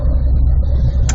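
Steady, loud low rumble of road noise inside a moving car driving through New Jersey, with a continuous engine and tyre drone and no speech.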